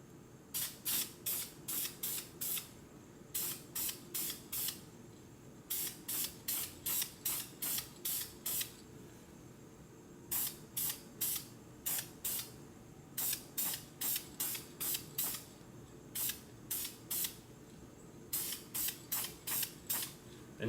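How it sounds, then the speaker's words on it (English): An aerosol can sprays OD green paint onto a warmed S&W M&P 15-22 rifle magazine in short, evenly spaced hissing bursts, grouped in threes and fours with brief pauses, close and steady. "Our piece is warmed up, and we're going to begin to paint."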